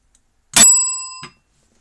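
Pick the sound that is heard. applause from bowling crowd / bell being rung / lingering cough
bell being rung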